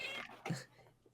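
A single brief cat meow, soft and fairly close, over a quiet background of low hiss.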